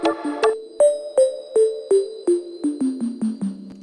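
A gritty, lo-fi sine wave synth, bit-crushed through RC20 with reverb, plucks a series of about ten short notes, stepping steadily downward in pitch, each trailing off into reverb.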